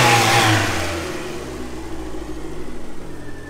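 The Ford CVH engine of a Fiesta RS Turbo revs up loudly, then the note falls away to a lower, pulsing idle as the revs settle, with no one speaking.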